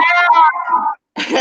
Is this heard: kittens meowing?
yes